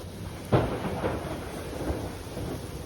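Thunder from a passing storm front rolls over a boat: one sharp crack near the start, then a broad, steady rumble with rain-like hiss, fairly loud and close, with no voices.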